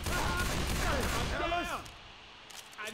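Rapid gunfire from Left 4 Dead 2 crackles loudly through the first half, overlapping with excited player voices, then drops off into quieter background.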